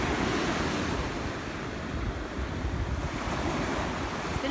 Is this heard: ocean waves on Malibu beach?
yes